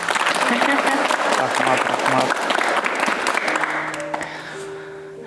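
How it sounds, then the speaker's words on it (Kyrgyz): A studio audience applauds a guest on a talk show, dense clapping that fades toward the end while a voice speaks briefly over it. "Бул кол чабуулар сиз үчүн."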